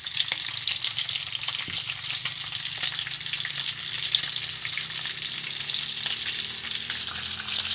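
Dried cut fish frying in hot oil, a steady loud crackling sizzle with occasional sharp pops that continues without pause.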